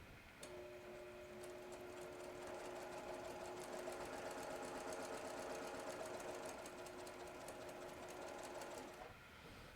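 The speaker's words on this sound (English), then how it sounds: "let's give it a quick stitch" A sewing machine runs a steady quick stitch, its needle ticking in an even rapid rhythm over a constant motor hum for about nine seconds, close and without talk.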